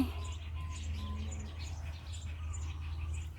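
Faint, steady high peeping from ducklings, scattered and overlapping, over a constant low hum.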